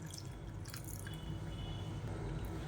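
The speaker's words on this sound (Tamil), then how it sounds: "மெஷரிங் கப்பில் அரை கப் அளவுக்கு தண்ணி சேர்த்துக்கலாம்." Water poured from a measuring cup into a mixer jar of flour for dosa batter, a steady close splashing trickle running the whole time with no talk.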